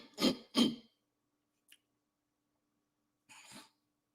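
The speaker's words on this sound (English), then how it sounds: "Oh my God, I got to sneeze." Two sharp sneezes burst out close together, followed by a short sniff and, after a pause, a softer breathy exhale.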